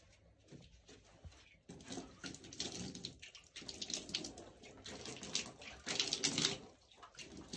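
Water pours steadily while being filled for mud-plastering a village house, a continuous splashing rush with irregular bumps and clatter, close and fairly loud throughout.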